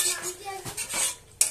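A metal spoon scraping and clinking against a pan while stirring a finished pointed gourd and Gobindobhog rice curry with a little ghee, a few close, separate knocks and scrapes.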